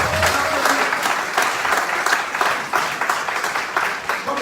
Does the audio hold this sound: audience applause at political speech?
yes